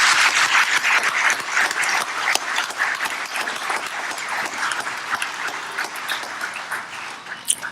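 Sustained audience applause fills an awards ceremony hall honoring sheriff's office deputies and other recipients, a dense steady wash of many hands clapping that thins slightly toward the end.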